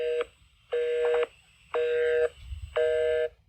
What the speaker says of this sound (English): That told you that the person you were calling was already on the line.